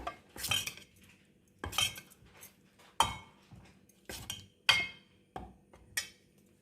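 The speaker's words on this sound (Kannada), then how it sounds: "ಇದನ್ನು ಚೆನ್ನಾಗಿ ಮಿಕ್ಸ್ ಮಾಡಿಕೊಳ್ಳೋಣ" A spoon clinks and scrapes around a bowl while mixing carrot masala dosa batter, making about six distinct, fairly close strokes with short pauses between them. No one speaks.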